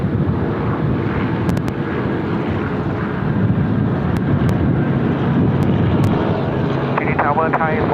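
A Vietjet airliner takes off at Sydney Airport, its broad jet roar steady and fairly loud throughout, overlaid with wind buffeting on the microphone and brief radio chatter near the end.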